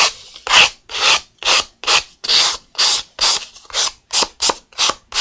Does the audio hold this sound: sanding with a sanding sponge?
yes